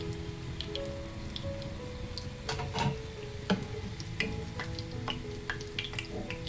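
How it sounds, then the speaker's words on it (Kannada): Wheat flour flatbread cooking on a pan over a medium flame gives a steady, soft sizzle and crackle. Scattered small pops rise over it, with a few sharper taps or scrapes of a utensil. No one speaks. "ಮೀಡಿಯಂ ಫ್ಲೇಮಲ್ಲಿ ಇಟ್ಟು 2 ಸೈಡು ನೀಟಾಗಿ ಬೇಯಿಸ್ಕೊಳ್ಳೋಣ"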